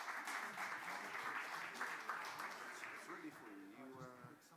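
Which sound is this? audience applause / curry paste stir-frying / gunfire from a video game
audience applause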